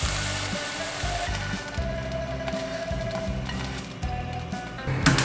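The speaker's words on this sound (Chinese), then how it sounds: "再继续让它慢慢煎。" King oyster mushroom pieces fry slowly in a pan, their second side browning after the flip, with a steady close sizzle and crackle throughout and no voices.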